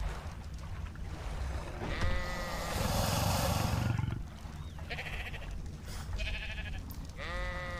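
Sheep bleat repeatedly in the ARK survival video game, with several wavering bleats from more than one animal over a steady ambient background. No one speaks.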